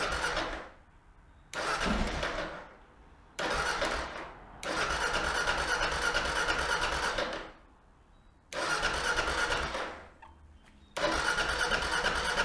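A Kawasaki KLR 650 motorcycle with a mouse-nested air box cranks repeatedly, each loud, close starter-and-engine burst sputtering out, before catching and running steadily at the end.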